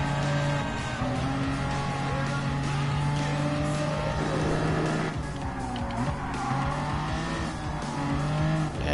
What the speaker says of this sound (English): If you do anything at high speeds, you will slide the turns.